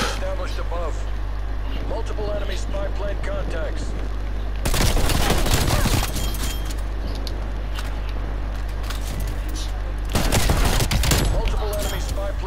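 Two loud bursts of rapid rifle fire in a video game, each lasting about a second, close and sharp over a steady low engine-like drone, with a voice talking in between.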